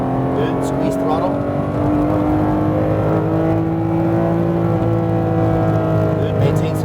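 A Porsche GT3 RS engine drones loudly and continuously on a track, the pitch rising steadily as it accelerates, heard from inside the car, with an instructor's voice speaking over the engine.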